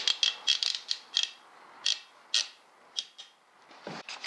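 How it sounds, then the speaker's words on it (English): A series of quick ratcheting clicks and scrapes, fairly faint and close, in irregular bursts as a clamp is tightened on wood for a nightstand. "Now I'm going to clamp this because it'll be a lot easier to put the screws in that way."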